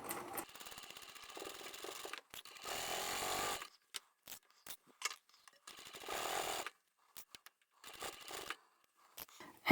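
Bursts of a sewing machine double stitching vinyl and upholstery fabric seams for a handbag, rapid mechanical rattling runs of a second or so separated by short pauses and clicks, fairly close.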